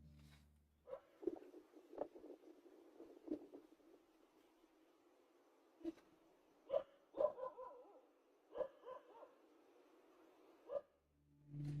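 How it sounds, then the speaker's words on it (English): Several dogs bark aggressively in the darkness outdoors, sharp irregular barks and yips scattered across the stretch, some in quick clusters, moderately near against a quiet background. "This person heard a group of dogs barking aggressively at something unseen in the darkness."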